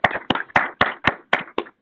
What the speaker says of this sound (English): we usually give a virtual applause to our speakers.